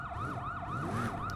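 Police car siren in the video game Sleeping Dogs, a loud wailing tone sweeping up and down in steady repeated cycles, close and continuous over low vehicle rumble, with no talking.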